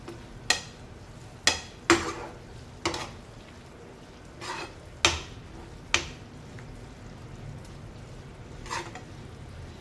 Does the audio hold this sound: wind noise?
no